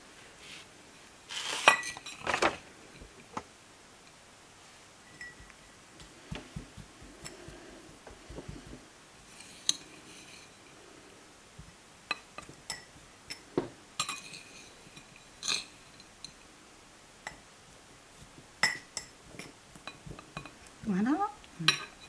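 A spoon scrapes and clinks as it scoops moist soil into a pot, making scattered light taps and clatters at close range, some in quick clusters, over a quiet background.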